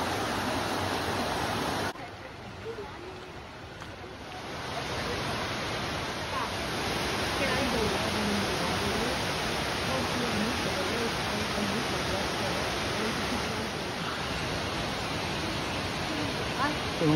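Bridal Falls waterfall near Abbotsford, British Columbia, a broad, steady rushing roar of falling water close by, continuous throughout with a slight dip in the first seconds.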